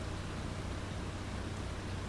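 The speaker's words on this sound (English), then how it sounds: "Really? Now it's going to rain on me?" Steady rain falling in the Farming Simulator 22 farming game, a continuous even hiss with no breaks, moderately loud and heard alone without talk.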